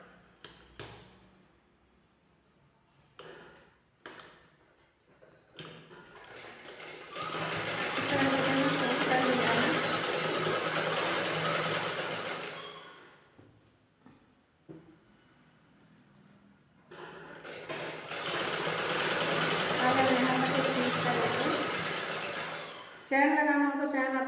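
An electric sewing machine stitching net fabric for a blouse runs in two long, steady whirring bursts, separated by brief pauses with small handling clicks and a voice talking between runs.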